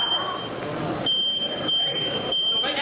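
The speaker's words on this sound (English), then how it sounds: "You hear the smoke alarm initiating now, within seconds." A smoke alarm sounds during a fire-safety demonstration with a couch catching fire, its shrill electronic beeps pulsing in a repeating pattern over roaring background noise.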